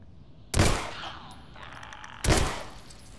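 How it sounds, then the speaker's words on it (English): Gunfire in The Last of Us: Left Behind, heard as two loud bursts about two seconds apart, each sharp crack trailing off into a brief reverberant decay, with no talk over them. "That took a lot of shots."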